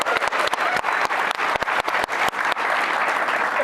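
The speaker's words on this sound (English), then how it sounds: "how about a word of a hand of applause for Hazel, our lay girl" Steady applause from a small group at a post-game press conference after a BYU football win over Utah, with sharp individual claps cutting through the continuous patter and no talking.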